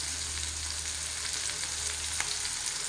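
Broad beans (ghevda) fry in a pan with a steady, dense sizzle and crackle that runs close and unbroken throughout, with no voices.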